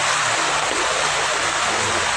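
Floodwater rushes down a street in Bali like a river, a loud, continuous roaring wash of water with no break.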